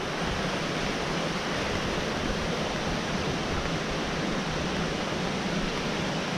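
The Algar waterfalls in Spain pour in a steady, dense roar of rushing water, constant and close with no breaks, drowning out any other sound.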